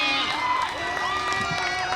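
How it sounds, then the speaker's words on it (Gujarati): A cricket crowd at a final match between Mehta Strikers and Advocates cheers and shouts excitedly after a wicket falls, a dense, lively roar of many voices with some whoops, fairly close and continuous throughout. "જુઓ તાળીઓનો ઉત્સાહ જુઓ"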